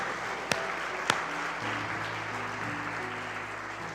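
A church congregation applauds at the close of a worship service, a steady broadband patter of many hands with two sharp claps near the start and faint sustained music or hum underneath.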